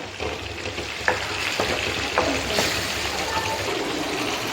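Blended tomato and onion frying in melted butter, a close steady sizzle with bubbling and a few sharp pops and stirring clicks.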